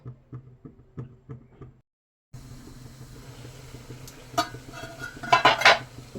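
Soft utensil taps give way, after a short silence, to metallic clanks and a rattling clink as a lid goes onto a pot of steaming bhapa puli pitha, close and fairly loud.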